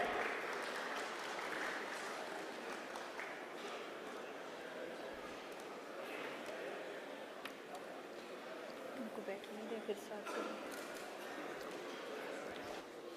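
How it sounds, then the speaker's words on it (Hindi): Applause at a balloting ceremony welcoming the chief guest, with steady, sustained clapping from a crowd filling the whole stretch at moderate distance, fairly soft overall. "भरपूर तालियों में हमारे चीफ गेस्ट का इस्तकबाल किया जाए।"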